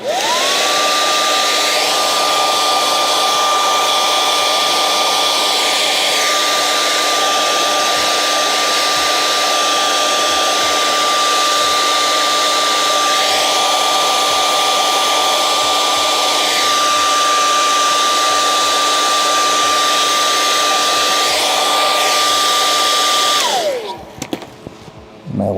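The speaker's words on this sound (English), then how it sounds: "Time for hair dryer." A hair dryer runs continuously at close range with a steady whine and airy rush for over twenty seconds, then cuts off abruptly, used while building a professional puppet.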